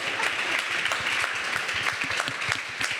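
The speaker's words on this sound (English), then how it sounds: "Please clap." An audience at a climate activism panel applauds, a dense, even patter of many clapping hands that holds steady at a moderate level throughout.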